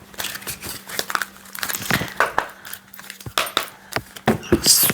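Fingers tapping on a tarot card deck during a card reading, a series of quick, close, crisp taps and papery crinkles in an irregular rhythm.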